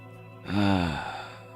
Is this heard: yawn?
yes